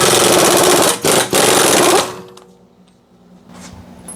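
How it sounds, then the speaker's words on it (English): An impact wrench hammers loudly on a 32mm axle nut of a Lincoln MKX for about two seconds, with two brief pauses, then stops, leaving faint workshop clatter. "now we can remove the axle nut"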